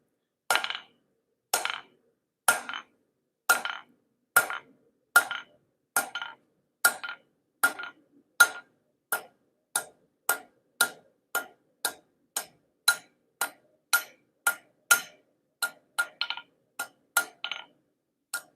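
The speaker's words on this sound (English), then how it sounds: "3-pound hammer" A 3-pound hammer striking metal pendant blanks, sharp ringing blows in a steady rhythm of roughly two per second, about thirty strikes, close and clear with silence between.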